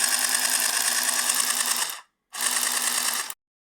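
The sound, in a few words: handy stitching machine sewing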